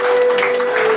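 Audience applause honouring a doctor at a hospital Doctors' Day ceremony in Udupi, a short, loud burst of clapping with a steady tone running beneath.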